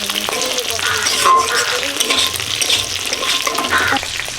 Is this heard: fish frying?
yes